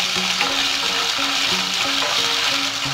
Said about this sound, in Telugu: అల్లం వెల్లుల్లి పేస్ట్ కూడా ఫ్రై అయినాక